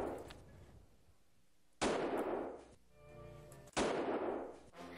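Two loud, sharp gunshots ring out in the Mad Dog McCree shooting game, a couple of seconds apart, each with a crisp crack and a short decaying echo against a quiet background.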